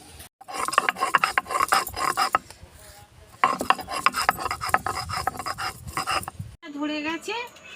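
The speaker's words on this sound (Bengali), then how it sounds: "আমি ততক্ষণ রসুনটা বেটে আনি।" Garlic is crushed by hand on a grinding stone for a duck egg dish, giving bursts of gritty rasping and scraping strokes separated by short pauses, with a brief voice or clatter at the end.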